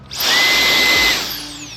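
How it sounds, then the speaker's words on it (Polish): A small handheld cordless electric air blower whirs up to a loud steady rush of air, then winds down, alone. "super sprzęcik taka dmuchawka z AliExpress gdzieś za stówkę"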